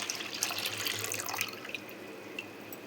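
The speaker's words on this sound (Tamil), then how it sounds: "அதோட கெட்டியான தேங்காய் பால் எடுத்தேன். இதில் ஊற்றிக்கிறேன்." Thick coconut milk being poured into a vessel while making black kavuni rice halwa, a short wet liquid pouring and splashing sound, fairly close and alone.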